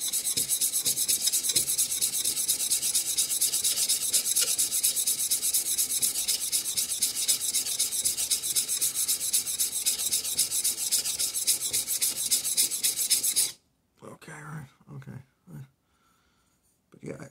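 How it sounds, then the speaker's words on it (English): Steady, continuous rubbing of the iron from a Chinese bao jack plane being polished, a dense hissing rasp that stops abruptly near the end, leaving faint scattered sounds. "as I polish the whole iron, it's going to take me longer to polish the whole iron"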